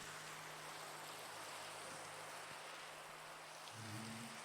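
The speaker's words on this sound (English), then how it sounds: "beautiful rain, warm rain." Warm rain falls in the Minecraft video game as a steady, even hiss of noise throughout, quiet and continuous, with faint low tones underneath.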